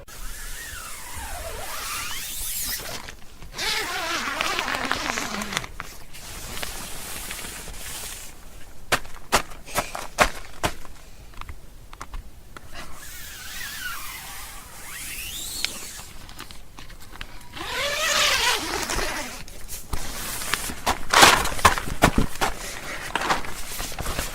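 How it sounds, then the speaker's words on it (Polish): Zipper rasps and rustling fabric repeat in long sweeping pulls as a tent is unzipped and opened, with handling bumps and crinkles between them, close by. "Usłyszeliście właśnie dźwięk otwieranego namiotu."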